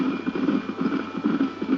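Horses' hooves clip-clop in a steady, rapid rhythm in the Red Dead Redemption video game, moderately loud and close with no talk.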